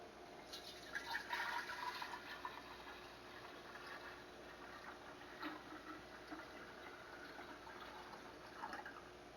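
Cooled tea for homemade kombucha being poured into a jar, a soft steady trickle and splash of liquid filling glass, faint and continuous for several seconds.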